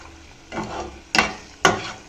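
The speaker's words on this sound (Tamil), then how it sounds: "இது இன்னும் எண்ணெய் பிரிஞ்சு வர வரைக்கும் நம்ம நல்லா சுருளை வதக்கிக்கலாம்." A thick curry leaf, coriander and mint thokku sautés in oil, soft sizzling under two sharp, spaced scraping strokes of a spatula against the pan, close and fairly loud.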